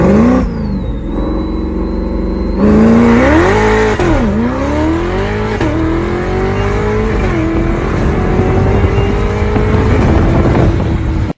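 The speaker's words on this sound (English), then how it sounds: "an E-ray launching Supercharged, making a whole bunch of good noises" Supercharged Chevrolet Corvette E-Ray launching hard, its engine roaring loud and close with a rising supercharger whine, the revs climbing and dropping through several quick shifts before settling into a sustained pull.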